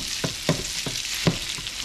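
Jimmy Dean maple breakfast sausage browning in a pan for a pancake sheet-pan recipe, a steady close sizzle with a few soft utensil scrapes and taps spaced through it, no talking.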